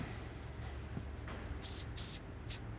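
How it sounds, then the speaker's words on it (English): Three short bursts of aerosol oil spray onto a baking mould hiss over a steady low background hum, each lasting a fraction of a second. "I'm going to spray my mould."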